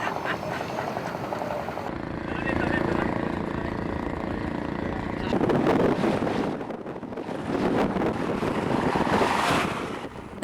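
A speedboat crosses big, rough sea waves off Mindanao, giving a constant roar of wind buffeting and rushing water with surging swells and spray that rise and fall in loudness throughout.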